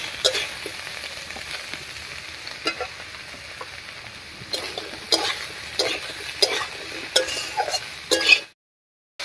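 Green chillies and onion frying in a pan of ginger paste, a steady sizzle broken by repeated scraping stirs and light clinks of the spatula, ending abruptly in silence.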